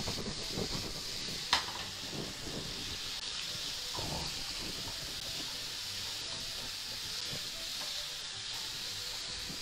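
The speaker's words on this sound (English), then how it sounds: "Quick stir." Chilli garlic prawns stirred in a hot pan, a steady hissing sizzle with scraping stir sounds and one sharp clink, close and without talk.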